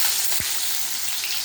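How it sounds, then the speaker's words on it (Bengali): Pointed gourd fries in hot oil in a kadai, a steady loud sizzle with one brief stirring knock near the start and no voices. "পটলটা ভেজে নিয়ে আসি"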